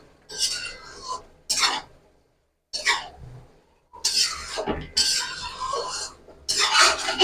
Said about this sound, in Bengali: একটু ভালো করে মশলার সাথে মিশিয়ে নেব